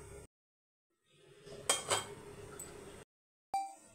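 A metal lid set down on a pot of simmering meal maker (soy chunk) gravy, giving two quick clinks close by, followed by a brief rattle and a short knock after a pause.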